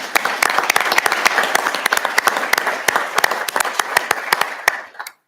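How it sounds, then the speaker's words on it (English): Applause at a council meeting for a captain of the Andover Fire Rescue Department, with close, distinct individual claps over a dense crowd patter, continuing strongly before stopping abruptly near the end. "let's clap for him"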